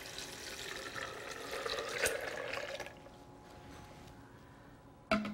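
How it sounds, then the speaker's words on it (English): Water poured into a Vitamix blender jar while making almond milk, a close splashing, gurgling stream for about three seconds that then tapers to quiet, ending with a brief clunk. "And I'm gonna add some water."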